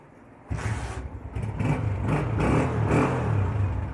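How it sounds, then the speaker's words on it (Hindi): A Honda CD125 motorcycle engine, freshly tuned with tappets adjusted and accelerator refitted, bursts into a close, loud running note, with a few throttle blips before settling into an even, slightly clattery idle. "तो मोटरसाइकिल मैंने स्टार्ट कर दी है, आपको चेक करा देता हूँ।"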